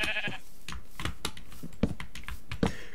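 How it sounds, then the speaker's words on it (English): Sheep bleat in the Minecraft video game, several short bleats standing out over a dense rattle of computer keyboard typing that runs through the whole stretch. "can you help me get this sheep, please?"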